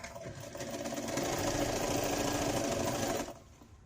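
A sewing machine stitches a quarter-inch seam joining two fabric pieces for a quilted pillow cover. It runs as a steady, close whirring hum for about three seconds, then stops abruptly.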